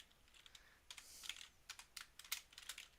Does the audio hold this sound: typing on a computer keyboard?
yes